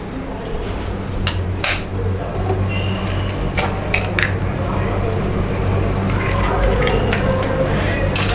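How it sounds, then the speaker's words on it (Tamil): An egg cracked into chilli chicken batter seasoned with chilli powder and salt: a few sharp close clicks and wet squishing over a steady kitchen hum, with no talk. "இதுக்கு வந்து ஒரே ஒரு எக்கு வந்து நம்ம உடைச்சிக்கலாம்"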